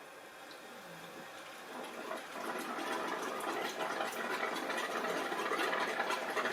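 A domestic pump feeding a shower runs as a steady, faint hum under rushing water, the flow growing louder and fuller after a couple of seconds and then holding constant.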